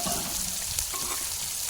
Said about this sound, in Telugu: ఆవాలు, జీలకర్ర, ఉల్లిపాయ, పచ్చిమిర్చి ఇవి కొంచెం ఫ్రై అవ్వాలి.